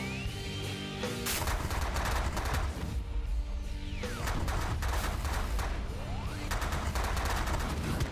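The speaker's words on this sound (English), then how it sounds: "Now we're going to focus fire on the pirate base." Rapid bursts of gunfire from ships attacking a pirate base in the space strategy game The Last Federation, a loud continuous barrage of overlapping shots and blasts with laser-like sweeps, no talking.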